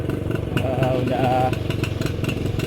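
An old Suzuki Crystal motorcycle engine runs with a steady, close, buzzing throb, revving briefly in the middle before settling back to a rhythmic putter.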